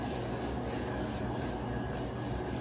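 A paint brush rubs acrylic paint onto a beach-themed door hanger. The scrubbing is dense, continuous and close-up, with a steady texture throughout, and no voices are heard.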